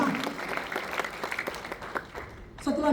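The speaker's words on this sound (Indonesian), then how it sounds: "Kita beri tepuk tangan" A church congregation applauding at a Pentecost celebration service, a crowd of clapping hands rising under a speaker's voice and swelling loudly at the end.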